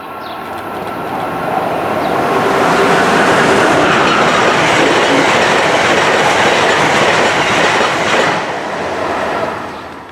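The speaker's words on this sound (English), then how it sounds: "After that was Amtrak Northeast Regional 135, which was the only regional we saw that today." An Amtrak Northeast Regional passenger train passes through Readville, swelling into a loud, close, steady roar with rhythmic clickety-clack of the cars for several seconds before easing off near the end.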